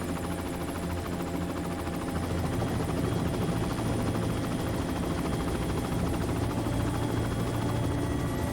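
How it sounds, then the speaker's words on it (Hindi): Helicopter coming in to land, a steady loud rotor thump and turbine drone holding throughout at close range with no break. "हेलीकॉप्टर नीचे लो।"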